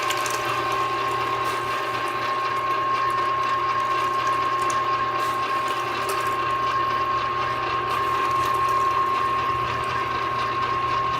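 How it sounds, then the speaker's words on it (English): A meat grinder runs steadily, grinding chilled strips of venison and pork for sausage, with a constant mechanical whir and hum and no talking over it. "If you do your meat in big strips like this, it's pretty easy to grind."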